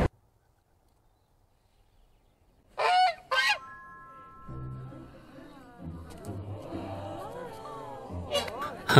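A goose in the animated Puss in Boots film gives a couple of loud, sharp honks, followed by voices talking over music and scattered animated sound effects.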